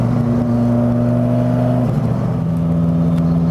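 A turbocharged Dodge Viper GTS pulling hard in fifth gear, a loud steady engine drone heard from inside the car, with the pitch dipping briefly partway through.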